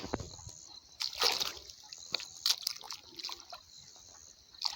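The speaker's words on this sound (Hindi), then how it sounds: "यहाँ से ये पानी जा रही है" Water running through a channel in a farm field, with close splashing, sloshing and trickling in irregular bursts, fairly faint and without talk.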